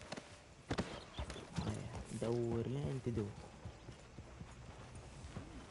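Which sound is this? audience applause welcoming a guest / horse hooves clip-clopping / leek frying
horse hooves clip-clopping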